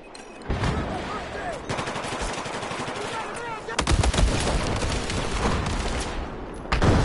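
Heavy assault rifle fire from Battlefield 4 roars in loud, sustained bursts of rapid shots, with a couple of brief pauses between volleys and a renewed burst near the end.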